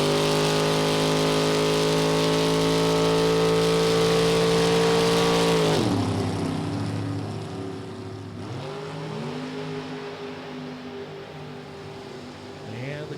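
Two drag cars, a 1968 Camaro and a Corvette Roadster, launch side by side at full throttle, a loud layered engine roar holding steady before dropping off sharply as the cars lift, then lower revving and shifting under faint background noise.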